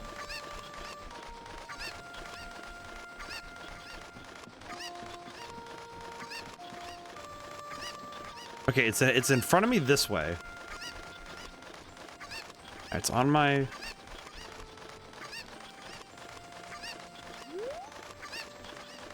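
Cuccos, the chickens of The Legend of Zelda: Ocarina of Time, let out two loud bursts of squawking clucks midway, over in-game music and someone talking.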